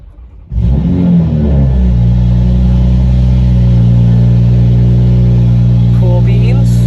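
A launch edition Toyota Supra fitted with titanium charge pipes starts up with a sudden loud roar, then settles into a steady, deep idle rumble close by, with brief voice sounds near the end.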